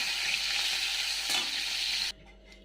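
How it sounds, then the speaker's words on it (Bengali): Loud, close sizzling of hilsa fish frying in hot oil, steady for about two seconds before cutting off abruptly. "দেখো মাছটা আমার ভাজা হয়ে গেল"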